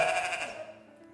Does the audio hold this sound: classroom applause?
no